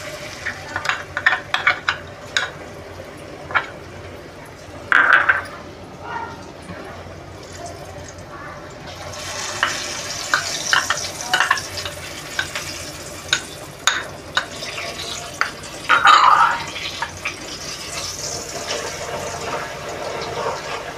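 Moong dal roasting in a pan for shahi badami halwa, with steady scraping and stirring strokes over a low sizzle, close and fairly loud, and a voice talking now and then over the work.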